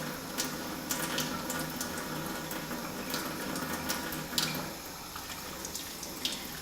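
Makeup brushes rinsed under a running tap, a soft continuous trickle of water with faint splashes and brief spatters, fairly quiet and close.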